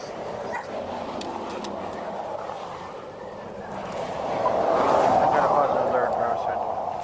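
A police drug-sniffing dog barks and whimpers near a vehicle during a roadside stop, the yips carrying over continuous outdoor noise and a voice talking.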